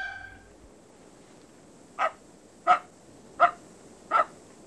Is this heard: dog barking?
yes